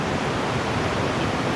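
A waterfall in Tallulah Gorge rushes in a dense, constant roar of water, loud and unbroken across the brief moment.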